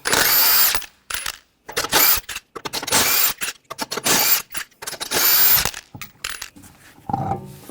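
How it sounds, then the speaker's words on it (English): Power tool with a 21mm socket spinning lug nuts off a Nissan Rogue wheel: repeated loud whirring, ratcheting bursts separated by short pauses, close and alone. "We're going to use a 21mm socket,"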